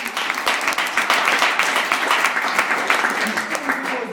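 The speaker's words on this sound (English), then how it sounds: "So give Jake a round of applause." An audience claps for Jake at a talk, a dense patter of hands with sharp individual claps throughout, moderately loud and fairly close.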